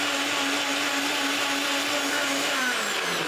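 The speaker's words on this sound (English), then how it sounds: "we're just going to put it in the blender and whiz it so up" A kitchen blender whizzes pineapple for ice lollies, a loud, steady whirring motor roar that holds constant for the full few seconds with no voices over it.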